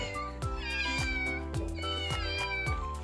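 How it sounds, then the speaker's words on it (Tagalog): Cats meow repeatedly and loudly up close, several drawn-out overlapping cries over a steady background tone. "Tingnan nyo guys, napakaingay ng mga pusa ko."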